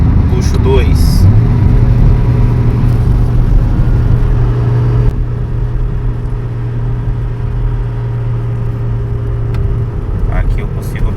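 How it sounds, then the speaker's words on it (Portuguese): A loaded Honda Civic engine braking in low gear on a highway descent, a steady loud drone and rumble of the engine held at revs, with road noise around it. "Aqui eu consigo obter freio motor."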